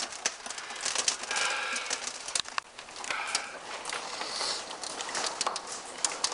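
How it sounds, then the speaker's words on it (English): Big hailstones falling during a May storm in Bristol, Tennessee, making a steady, dense clatter and patter of impacts that continues for several seconds without talk. "Big old hail falling now"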